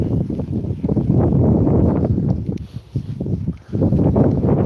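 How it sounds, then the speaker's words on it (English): Strong wind buffets the microphone in a continuous loud roar at Withernsea on the English coast, easing briefly a couple of times before gusting back up. "It is windy, George. It's really, really windy."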